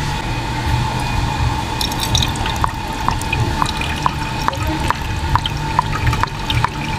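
Coolant trickles through a funnel into the radiator of a Toyota Hiace, a steady wet pouring wash punctuated by a regular series of crisp drips, close and fairly loud, with no talking.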